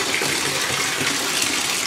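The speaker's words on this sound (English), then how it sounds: "here's the bath water" Water sloshing and gushing in a bathtub, a steady broadband wash of splashing with no voices over it, fairly loud and close.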